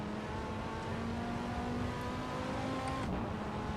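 Steady, droning engine note of an Audi R8 driven at night on the Nürburgring Nordschleife in Assetto Corsa, holding a constant pitch with a slight shift near the end, continuous and fairly distant.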